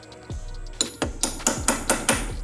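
A metal socket is tapped onto a bolt head on a VW Bug during a transmission swap, with about eight sharp, evenly spaced hammer knocks ringing close up.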